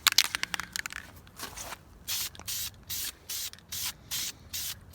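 Flame-proof header paint sprays onto a turbo manifold in a light coat: a few quick hissing spurts, then a regular series of about eight short aerosol bursts, close and fairly loud.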